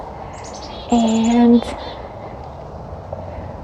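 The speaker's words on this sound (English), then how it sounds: "with all these birds singing, chickadees" Chickadees sing near a parking lot at Laurier Park, a short burst of clear whistled notes with fainter twittering around it, while someone speaks briefly over the calls.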